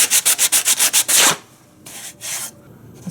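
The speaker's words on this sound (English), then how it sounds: "Now I'm just going to hit it lightly with a little piece of sandpaper" A small piece of sandpaper rubs over a flush-cut wood repair where a damaged headless screw was removed, first in about eight quick rhythmic strokes, then a few slower separate passes, close and crisp with no talking.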